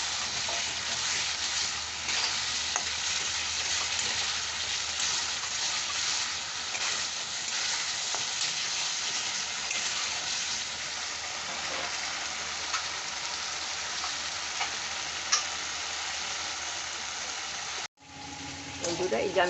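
Spice paste fries in oil that has begun to separate, giving a continuous close sizzle with occasional stirring scrapes, and the sound cuts off abruptly near the end.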